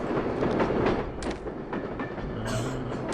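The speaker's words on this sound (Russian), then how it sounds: "Тут походу поезда едут, да?" A train rumbling past in the video game Kingpin, a steady loud roar of wheels and carriages with clattering and a brief squeal, no speech.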